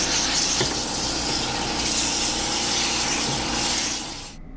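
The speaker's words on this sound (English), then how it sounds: "We're pretty much just gonna pass water through the coil, but I like to start through the back." Water sprayed through the coil of an LG Multi V HVAC unit during cleaning: a loud, close, continuous rushing hiss that holds steady for several seconds, then cuts off abruptly.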